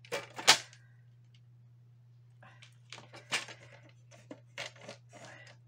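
A craft blade slices through paper while making a flower card, giving a few short scraping and cutting strokes, close and quiet, over a steady low hum.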